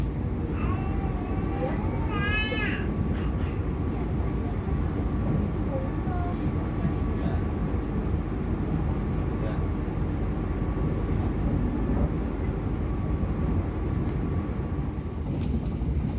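The Gaya Baru Malam Selatan passenger train rolls non-stop through Yogyakarta's main station as a loud, steady rumble, with a brief warbling tone near the start and a voice talking over it.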